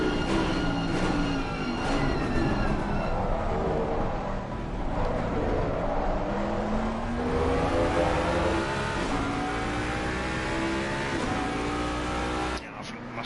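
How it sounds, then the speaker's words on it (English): A Ford Mustang GT race car in Assetto Corsa Competizione at Monza roars close by, its engine pitch climbing and dropping through the gears amid other racing cars, with commentary voices faintly underneath. "Listen to that Mustang."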